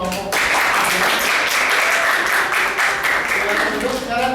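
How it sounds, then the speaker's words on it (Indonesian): A classroom of students claps for a group, brisk, close applause starting abruptly and staying loud and steady to the end. "Tepuk tangan untuk kelompok."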